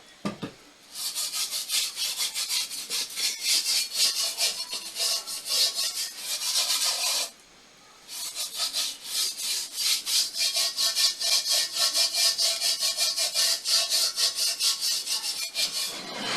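Scrubbing a slightly rusted cast iron pot by hand, a steady, loud abrasive rubbing that runs continuously, with one short pause partway through, and no talking.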